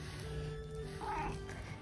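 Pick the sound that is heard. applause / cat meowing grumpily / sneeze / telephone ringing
cat meowing grumpily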